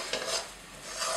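A spoon scrapes cooked carrot halwa off the sides of a kadhai in a soft, continuous rasping stir, quiet and close with no talking.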